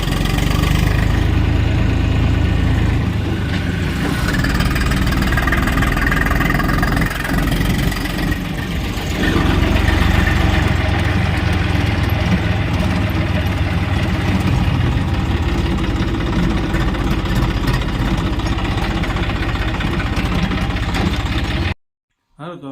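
A tractor engine runs loud and steady close by on a Gujarat farm, rumbling without a break for about twenty seconds before stopping suddenly, with faint talk mixed into the drone.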